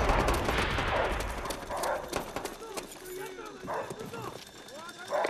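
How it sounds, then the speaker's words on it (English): Attack dogs in Call of Duty: World at War snarl and bark in short bursts amid rapid gunfire and battle noise, with voices calling out over the chaos. "Bring in the dogs!"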